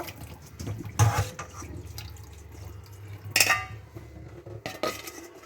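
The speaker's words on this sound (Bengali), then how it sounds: "খুব ভালো করে জল দিয়ে ঢ্যাঁড়সগুলোকে একটু ধুয়ে নিচ্ছি" Okra is rinsed in water, with sloshing and dripping punctuated by several clattering knocks against a metal bowl or dish, close and fairly loud, no voices.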